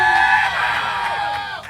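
A live outdoor crowd at a Record Store Day event cheers and whoops, a dense wash of overlapping shouts and yells that holds steady and then fades slightly.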